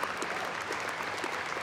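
Steady, dense applause fills an awards ceremony hall at the 2014 Attitude Awards, heard at moderate level without a break.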